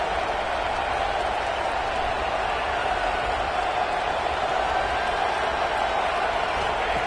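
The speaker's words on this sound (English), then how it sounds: "Listen to the crowd energy here in the early going." Stadium crowd roaring during a UAB versus Georgia State college football game: a broad, continuous wash of cheering and noise from a large distant audience, steady throughout with no distinct voices.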